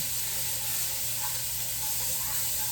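Butter melting in a hot frying pan, giving a steady, even sizzle and hiss that holds without a break from start to finish, moderately close with no one talking.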